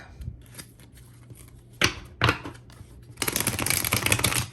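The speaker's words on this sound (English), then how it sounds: "Let's shuffle the cards and let's see how the cards shuffle." Tarot cards are shuffled with brief riffling bursts, then a longer, louder flurry of rapid papery flicking near the microphone.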